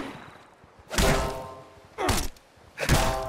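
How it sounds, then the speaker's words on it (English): A shovel striking enemies in the video game Fallout 76, three heavy thudding whacks about a second apart, each with a brief swishing burst, loud and close with no talk. "it's the noise it makes when I hit them."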